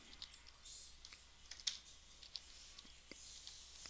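Clicky keystrokes on a computer keyboard come in irregular bursts, close but quiet, over a faint hiss, with no talking during the typing.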